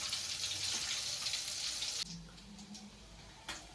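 Fish fries in hot oil, a loud bubbling hiss for about two seconds that suddenly drops to a much quieter, calmer simmer.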